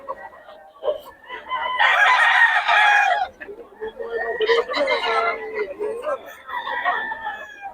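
Quality gamecock roosters at a Bocaue farm crowing loudly and clucking in repeated bursts, with several birds calling over one another while someone talks nearby.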